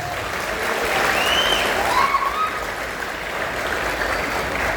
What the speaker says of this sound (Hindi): वो सभी महान लीडरों के लिए एक बार शानदार तालियां।